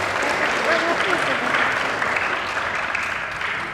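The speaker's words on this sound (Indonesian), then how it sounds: "Tepuk tangan dulu semuanya." Steady, dense applause from an audience at an Islamic religious lecture, loud and continuous throughout with no talking over it.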